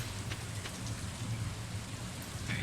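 Rain falls in the farming game Stardew Valley, a steady soft hiss of drops on the ground with light patter, even and fairly quiet, with no talking.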